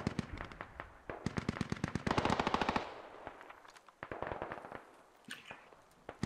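Gunfire in the SquadOps military shooter game comes in rapid bursts of close, sharp automatic shots, with scattered single reports and pauses between volleys.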